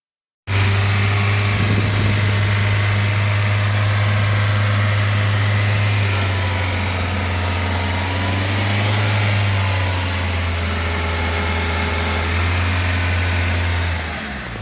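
Small car with a 1.2-litre Kappa engine idling close by, a steady low hum that holds for several seconds with slight shifts in pitch.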